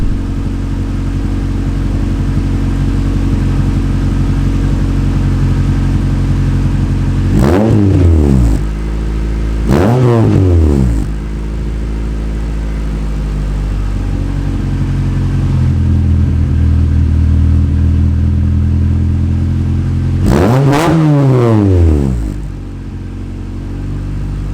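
Honda B-series engine revving hard, loud and close, with sustained high idle broken by three sharp throttle blips that rise and fall quickly, no voices.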